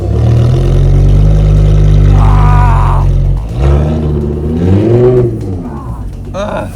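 A Lamborghini stuck in snow and ice revs hard as its wheels spin without traction, the loud engine surging and dropping in close bursts, with a voice speaking briefly over it.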